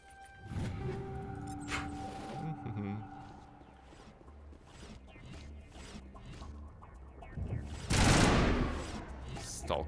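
Gunfire in the video game Mass Effect 1, a mix of shots and bursts amid game effects and music, with a louder blast near the end and people talking over the action.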